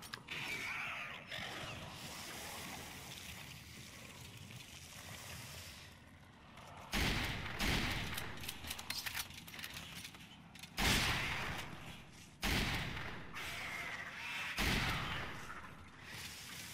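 Semi-automatic gunfire in Resident Evil 5 Mercenaries mode, several separated loud bursts of repeated shots with mechanical clatter between them and quieter stretches of game ambience.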